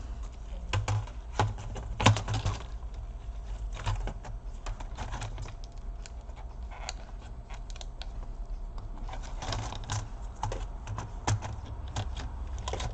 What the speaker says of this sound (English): Now I'm gonna put back the keyboard.